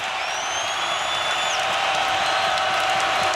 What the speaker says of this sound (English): Crowd tremendously loud.